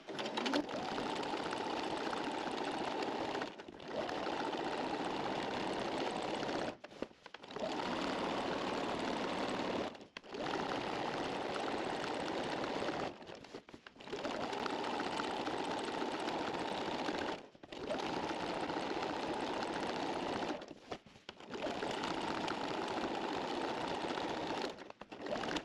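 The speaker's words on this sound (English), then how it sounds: "just stitch in the ditch all the way around that outer diamond" Quilting on a sewing machine, stitching in the ditch around a diamond on a quilt-as-you-go block: long steady runs of close, loud motor whir broken by short pauses at regular intervals.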